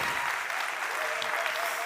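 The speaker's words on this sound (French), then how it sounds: "Applaudissez pour l'encourager." An audience at a university speaking contest final claps loudly and continuously, a dense, even wash of applause with no pauses.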